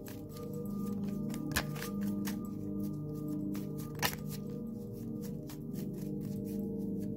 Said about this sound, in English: I'm gonna shuffle 5 more times after this spirit.